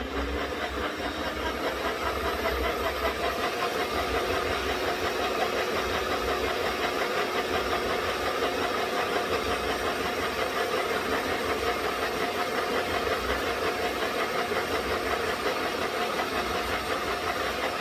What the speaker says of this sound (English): While my mixer's doing that job